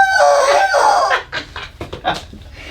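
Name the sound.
chicken clucking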